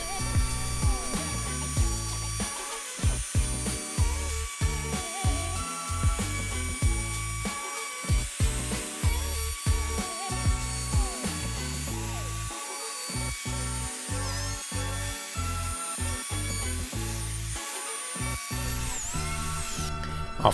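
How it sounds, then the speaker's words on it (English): A router rounding over the top edge of a plywood coaster, cutting a small 3 mm radius. It gives a steady high whine with rapid, regular rhythmic chatter as the bit passes along the wood, close and continuous. "On the top side, I also added a small rounding of about 3 mm with the router."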